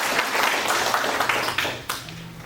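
Audience at an environmental issues forum in Jecheon gives a round of applause, a dense, moderately loud patter of many hands clapping steadily for a couple of seconds with faint murmur underneath.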